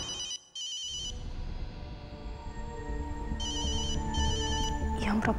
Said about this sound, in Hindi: हमारा फोन का ही झांझा बच रहा है